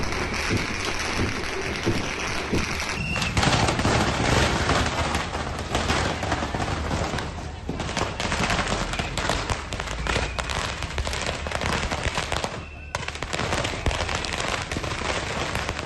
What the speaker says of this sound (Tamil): இருசக்கர வாகனங்களை நிறுத்தி பட்டாசு வெடித்து கொண்டாடியதாக கூறப்படுகிறது